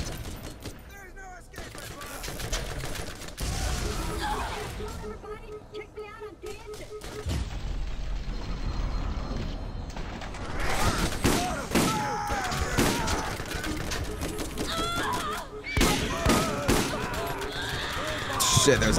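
Gunfire and grenade explosions in the Borderlands video game during co-op combat: dense, repeated bursts of shots and heavy thuds with people talking over the action throughout.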